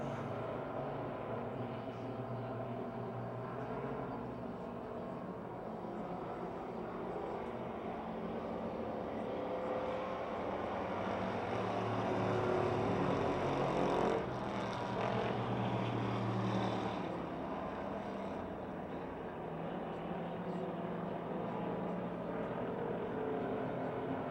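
Race cars circle a motor speedway oval, their engines a continuous distant roar that swells briefly midway, heard from a distance with no talking.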